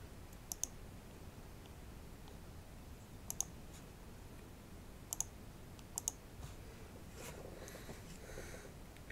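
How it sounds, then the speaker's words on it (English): A computer mouse double-clicking while a file is opened in an editor: several crisp, close paired clicks spaced a second or two apart over quiet room hiss, followed by faint rustling. "double click on the latest version to bring it up in the editor"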